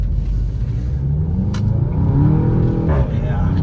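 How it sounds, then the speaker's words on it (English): A 2021 Volkswagen Golf 7.5 GTI TCR drives around the block, its engine a steady low rumble heard from inside the cabin, with a brief rise in revs near the end and people talking over it. "we took the car for a quick drive around the block."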